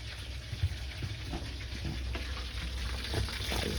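Chicken wings fry in melted butter in a pan with a low, steady sizzle and faint bubbling crackles, moderately close and fairly quiet, with no voices.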